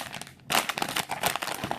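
Plastic toy packaging for Teenage Mutant Ninja Turtles figures is torn open up close, a loud dense crinkling and crackling that starts after a short quiet pause and continues in uneven bursts.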